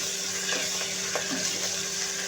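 Ginger-garlic paste frying with onion in a hot pan, cooked for a chana dal with bottle gourd: a steady, close sizzle with a few soft stirring scrapes and no talk.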